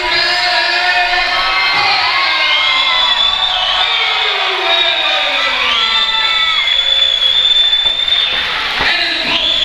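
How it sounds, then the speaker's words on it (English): A crowd at a caged fight event cheers, whoops and shouts loudly for a fighter introduced from New Jersey, a dense, sustained roar with piercing high yells rising and falling. "Give a big round of applause for the New Jersey man."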